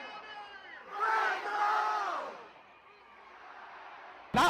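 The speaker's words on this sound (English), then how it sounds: "the sold-out Black Wave crowd rallied behind them at the homecoming game" A sold-out Fresno State Bulldogs football crowd roars and cheers at a homecoming game, a broad swelling wall of voices that peaks, eases back, then ends in a sudden loud burst.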